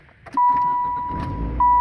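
A car's ignition is switched during a restart while the stereo stays on. A steady electronic chime-like tone sounds twice, over a low rumble and faint clicks, close and fairly loud.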